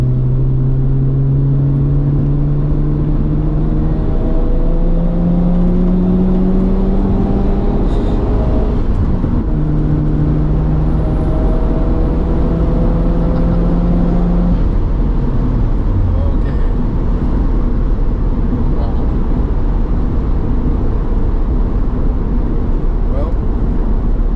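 A warmed-up Mazda FD RX7 rotary engine idles loudly and steadily up close, with a deep continuous drone and slight pitch shifts, while someone talks over it.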